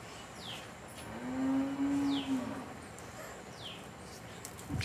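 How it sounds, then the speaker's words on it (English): A cow lets out one long, low bellow at moderate distance, steady for about a second, amid faint outdoor ambience with brief bird chirps around it. "It's called Mangal Dwani, the sound of cows bellowing."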